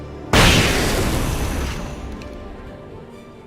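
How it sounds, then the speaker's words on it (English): A frag grenade in the video game Alan Wake detonates in a sudden heavy boom, then a long rumbling decay that fades over about three seconds. "Let's just toss another frag."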